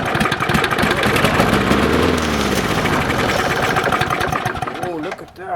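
An old Briggs & Stratton 6.5 OHC lawnmower engine being pull-started, sputtering into a rough, loud running chug before faltering near the end, with people talking over it.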